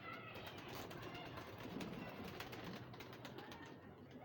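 A pigeon gives low, soft cooing close by while someone talks over it, the calls partly buried under his voice.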